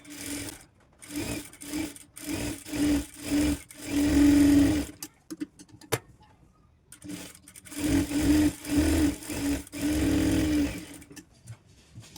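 Sewing machine closing the open side of a blouse piece, running in short whirring bursts separated by pauses, with longer sustained stitching runs near the middle and end.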